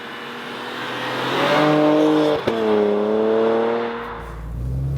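A Porsche Macan GTS SUV with a 3.0 V6 engine accelerating hard, its close, loud engine note climbing through the revs with a brief gear-change dip midway before pulling up again.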